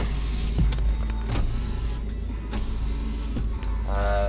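The power windows of a Honda CR-V with 220,000 kilometres hum as the motors drive the glass, with several thumps and clicks as each window stops and a brief voice near the end.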